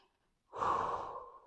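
A single deep breath drawn in and slowly released, close and soft, rising suddenly out of near silence and tapering gently toward the end.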